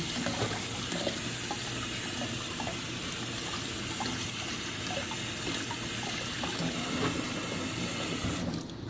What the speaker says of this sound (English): Make sure you wash it with hot water.